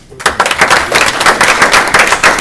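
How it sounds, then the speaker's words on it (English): Loud, close applause from a board-meeting audience, with sharp individual claps standing out in a quick, irregular rhythm after a brief quiet start. "So if we may just a round of applause."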